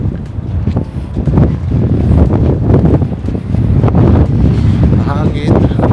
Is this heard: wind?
yes